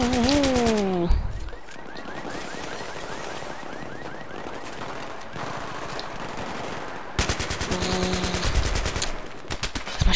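Flanking automatic gunfire in the shooter game Battlefield 3 rattles in rapid bursts, loud and close, with sharp single shots and sustained machine-gun fire.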